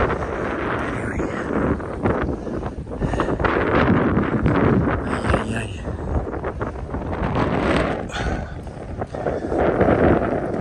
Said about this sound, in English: As you can tell from the noise, it's a bit windier.